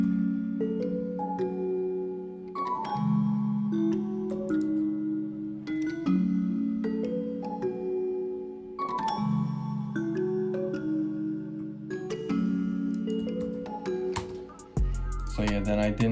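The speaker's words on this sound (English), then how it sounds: "I went into Omnisphere and I picked this Keys Drive." Dry electric-piano style synth keys from Omnisphere's Keys Drive patch play sustained chords with some added melody notes, steady and fairly loud, no reverb or effects, ending with a low thump.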